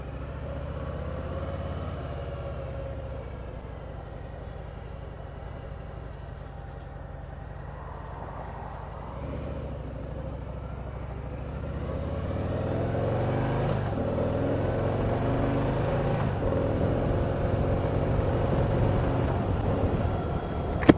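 A 2018 Heritage motorcycle engine running, a low steady idle that swells into a louder, rougher throbbing rumble partway through and holds there to the end.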